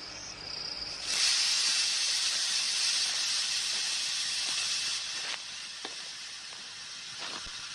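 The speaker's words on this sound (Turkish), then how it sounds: "Çok miktarda buhar var." Heavy steam hisses steadily from a steam locomotive in a 1959 western film, a loud continuous rush with a few faint clicks and knocks beneath it, no voices.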